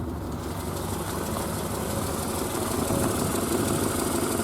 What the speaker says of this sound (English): She's off the choke and at 600 RPM.